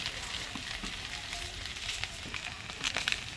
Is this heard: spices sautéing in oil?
yes